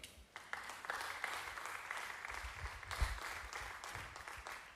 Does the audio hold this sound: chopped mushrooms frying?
no